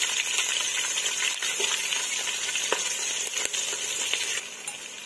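Cumin, mustard seeds and green chillies crackling and spluttering in hot oil, a dense steady sizzle with sharp pops throughout, close and even, fading slightly near the end, no talk.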